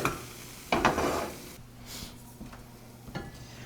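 Mixed vegetables for a cottage pie filling being stirred in a pot on the stove, with a few spoon scrapes and clinks against the metal over a faint low sizzle, close and without talk.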